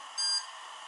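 A VIGOTEC VG L7X laser engraver gives a single short electronic beep as it connects over Wi-Fi. The clean tone stands alone over a steady low hiss.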